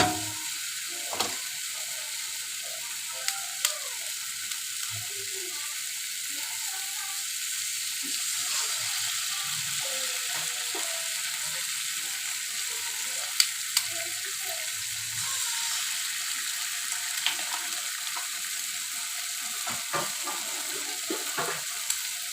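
Food in a pan keeps up a steady frying sizzle, with occasional soft scrapes and clicks of stirring over it.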